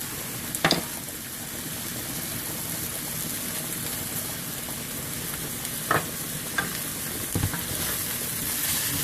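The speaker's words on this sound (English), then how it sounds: "We're just going to saute this just for a few minutes here" Vegetables sautéing in a pan for pasta: a steady, quiet sizzle runs throughout, with a few sharp utensil clicks or taps near the start, around the middle and toward the end.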